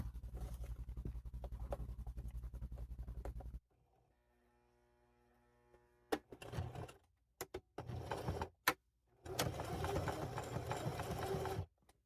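Sewing machine top stitching a handbag, a steady close motor hum running for several seconds, then short bursts and stops before another long continuous stitching run; no talk.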